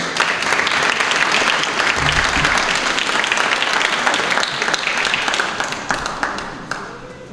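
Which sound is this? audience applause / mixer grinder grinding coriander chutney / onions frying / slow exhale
audience applause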